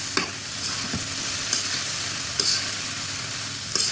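Vegetable bhaji fries in a pan with a steady broadband sizzle, broken by a handful of sharp scraping stirs at irregular moments, close and moderately loud, with no voices.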